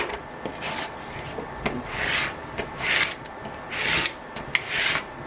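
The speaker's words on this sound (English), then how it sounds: "I'm going to smooth that down. I'm using this squeegee." A squeegee rubs and scrapes across vinyl transfer wrap, a series of soft swishing strokes in uneven rhythm, close and fairly quiet, with no voices.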